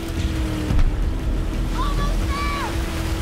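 A motorboat in the video game Battlefield 4 surges over ocean waves, engine rumble and rushing water and wind loud throughout, with a brief thump as the hull hits a swell and faint whistling tones in the background.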